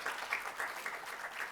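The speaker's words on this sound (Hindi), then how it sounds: "गौरव के लिए तालियां" Applause for a young poet stepping up to receive an award at a Hindi poetry competition, a soft, steady patter of clapping from a modest audience, fairly quiet and continuous throughout.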